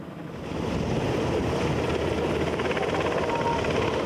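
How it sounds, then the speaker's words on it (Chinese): A CH-47SD helicopter carrying a large national flag flies past the reviewing stand at a Taiwan National Day ceremony. Its steady, loud rotor roar fills the air after a short rise at the start. "CH-47SD 直升机第一年吊挂200大型的国旗飞过观礼台"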